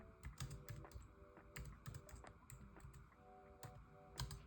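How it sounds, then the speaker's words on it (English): Rapid, irregular clicking of keys on a computer keyboard, close and fairly quiet, with short pauses between bursts of typing. "Sorry, I'm typing with one hand."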